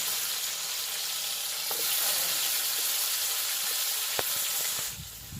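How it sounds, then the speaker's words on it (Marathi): Cumin and mustard seeds sizzle steadily in hot oil in a home kitchen while potato bhaji is being made, a dense continuous hiss with a few faint crackles, close and fairly loud, easing off near the end. "तेल तापले आता जिरे मोहरी टाकून घेऊ टाकून घेतला"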